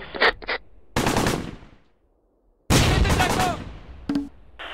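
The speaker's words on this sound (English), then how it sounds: "Unter schwerem Beschuss!" Heavy gunfire and machine-gun bursts in the Close Combat Gateway to Caen war game come as loud, dense rattling volleys with short gaps, mixed with brief shouted voice lines from soldiers.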